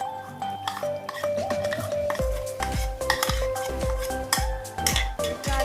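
A spoon clanks and scrapes loudly against a pot as potato paste is stirred into a sizzling onion-tomato paste, with rapid, repeated metallic knocks close up and faint tonal sound behind.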